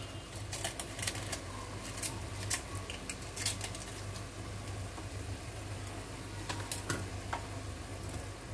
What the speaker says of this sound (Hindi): पहले तो मैं तेज पत्ता कट करके डालूंगी